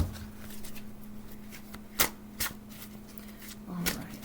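Close, soft riffling and sliding of gold foil tarot cards being shuffled, with a few sharper snaps of cards and a faint steady hum underneath, no voices.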